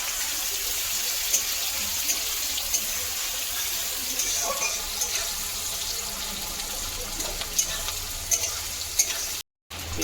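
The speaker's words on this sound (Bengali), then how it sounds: "তেল গরম হয়ে গেছে, তেল গরম দিয়ে দিলাম পেঁয়াজটা" Onion frying in hot oil in a home kitchen, a continuous close sizzle with steady stirring scrapes running the whole way, briefly cutting out near the end.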